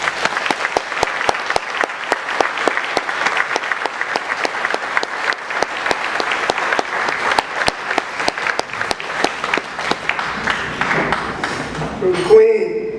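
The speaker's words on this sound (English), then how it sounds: "Let us please give him a round of applause." Sustained audience applause at a birthday celebration gathering, a dense steady patter of many hands that carries on throughout and fades near the end as a voice begins.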